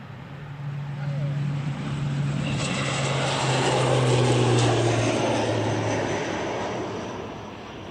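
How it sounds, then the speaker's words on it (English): An ATR turboprop airliner takes off from Wellington Airport in windy, gusty conditions, its propeller drone swelling to a loud, broad roar over steady wind noise as it passes, then easing slightly toward the end. "Another ATR heading off down to Christchurch."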